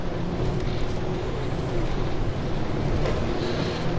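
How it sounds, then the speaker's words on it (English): A loud, continuous turbocharged car engine roar with a whooshing, jet-like turbo hiss in the racing game Assetto Corsa, steady throughout with no voices. "Oh, sounds like a jet engine,"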